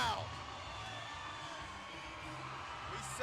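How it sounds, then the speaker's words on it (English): Packed-house crowd at an LFA 146 MMA fight, Luana Santos vs Waleska Sousa, roaring and whooping steadily after the final round, loud and continuous with scattered yells rising from the din. "Look at that crowd going wild"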